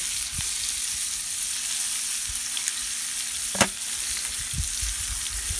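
Crumbled bacon fries in an Outset shrimp pan, giving a steady, dense, close sizzle with a few soft knocks and one sharper tap.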